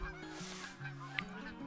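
Geese in a flock honk close by in a run of rapid overlapping calls during a goose hunt, loud and clear above a quiet field background.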